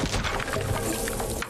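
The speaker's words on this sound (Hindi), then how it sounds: "अपनी गाड़ी भिड़ी और एक्सीडेंट हो गया।" A car crash in a video game: a dense, loud burst of crunching, smashing impact noise that fills the whole short moment without a break.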